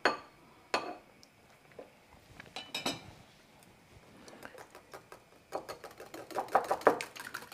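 A small whisk working crème fraîche in a bowl, with irregular clinks and taps against the bowl that begin sparse and then quicken into rapid clustered ticking toward the end.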